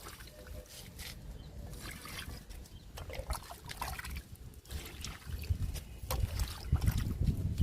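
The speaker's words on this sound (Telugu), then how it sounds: "లిక్విడ్ ఇస్తున్నా బెండ మొక్కలకి." Liquid fertilizer is poured onto okra plants growing in rice bags, making an irregular splashing trickle that rises and falls at close range, with no talking.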